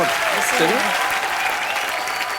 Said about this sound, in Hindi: आइए फिर जोरदार तालियां एक बार।